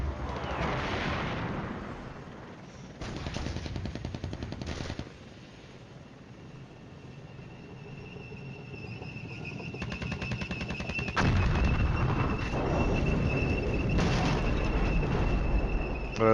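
Artillery fires in the war strategy game Flashpoint Campaigns: Cold War, with bursts of rapid, repeated impacts and booms separated by quieter rumbling stretches, fairly loud and with no speech.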